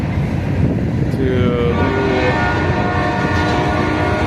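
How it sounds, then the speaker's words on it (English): A freight train rumbles past nearby, loud and steady, with wheels grinding and a faint horn tone mixed into the continuous roar. "And there goes the freight train right there."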